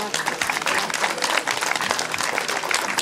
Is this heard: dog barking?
no